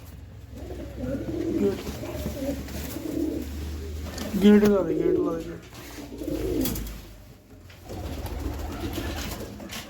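Pigeons at a pigeon sale coo repeatedly in soft, throaty bursts close by, while someone talks briefly over them.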